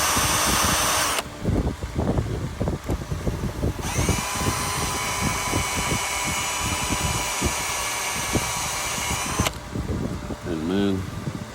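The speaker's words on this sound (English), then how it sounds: "Run the drill" A power drill runs in bursts while working on Cessna 421 interior parts, a loud high whine that starts, stops and restarts, close up, with rattling handling noises between runs.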